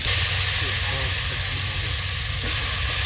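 Fish frying in a pan at an outdoor jungle kitchen, giving a loud, steady sizzle and hiss of hot oil that runs unbroken, with a voice talking over it.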